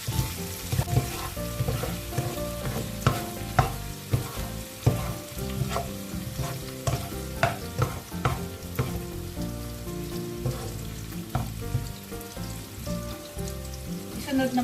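Sliced onion sizzles and fries in a hot pan for pork adobo with orange juice, a steady crackling hiss with stirring scrapes throughout, heard close and alone.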